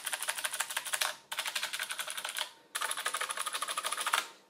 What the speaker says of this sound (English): There's my Tesoro RGB gaming mechanical keyboard with the equivalent of Cherry MX blue switches.